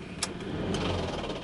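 A Ford F-150 pickup engine, jump-started with a Noco battery booster, cranks briefly and catches into a steady close-up running rumble.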